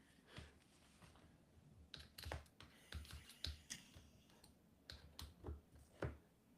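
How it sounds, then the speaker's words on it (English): Quick bursts of clicky keystrokes on a computer keyboard, irregular clusters of sharp taps close to the mic and fairly quiet, with brief pauses between runs and no talking. "He's typing."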